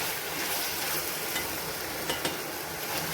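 Onions sauté in a hot pan with a dense, steady sizzle, and a couple of brief stirring clicks rise near the end.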